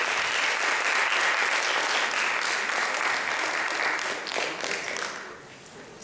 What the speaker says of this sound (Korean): 박수 좀 크게 쳐주십시오.